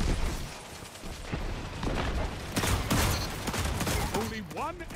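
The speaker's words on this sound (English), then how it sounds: "Grenade to the doorway" A grenade bursts in the Destiny 2 video game amid a busy firefight, with sharp blasts and gunfire layered over players talking.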